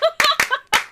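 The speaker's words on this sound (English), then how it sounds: "Fucking clapping." Several close, sharp hand claps land in quick uneven succession within a second, interleaved with bits of voice.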